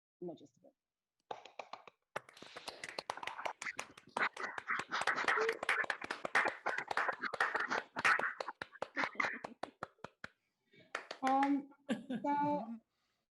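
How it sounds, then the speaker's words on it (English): Participants in an online meeting clapping over their microphones, a patchy, bursty run of hand claps and taps of uneven density, with gaps and brief voices mixed in, sounding compressed and close. "unmute and deafen each other if you want to give Ruben a bit of an applause"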